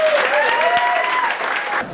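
Audience applauding comedian Ron Farnham as he is introduced at a comedy show, a steady dense clapping across the full two seconds with a faint voice running over it before it cuts off near the end.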